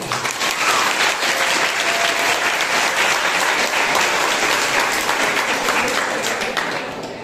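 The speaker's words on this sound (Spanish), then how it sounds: "Primero yo quisiera que le den un aplauso de bienvenida" Sustained audience applause fills a school auditorium at a talk by a guest author, a dense steady wash of many hands clapping that holds loud for about seven seconds before easing slightly at the end.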